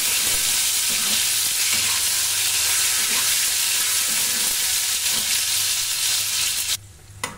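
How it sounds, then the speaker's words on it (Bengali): A tomato frying with chillies in a pan, giving a loud, continuous close hissing sizzle with occasional stirring scrapes, which drops away abruptly near the end, and no talking. "এটাকে নাড়িয়ে চাড়িয়ে নেব। এবার দিয়ে দেব একটা টমেটো।"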